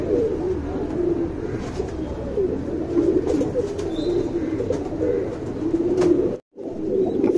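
Male and female Sabja pigeons coo nearby with steady, soft, repeated rolling calls, layered over a continuous murmur of other birds in a loft.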